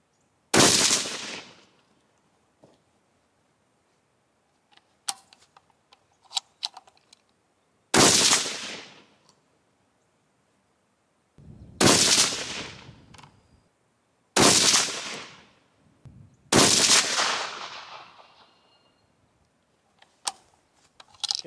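A 6.5 caliber rifle fires a five-shot group, five loud sharp reports spaced a few seconds apart, each with a decaying echo, separated by quiet gaps and faint handling clicks.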